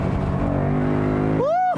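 A 2019 Ford Mustang GT Convertible's engine roars steadily at high revs, loud and close, then a rising whine sweeps upward near the end as the revs climb.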